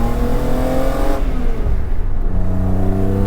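BMW E36 M3 straight engine revving up on track from inside the car, a loud sustained rising drone with a clear shift in pitch partway through, then pulling again strongly.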